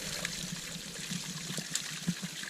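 A small mountain spring of drinking water trickles steadily nearby, a soft continuous burble with faint splashes and no talk.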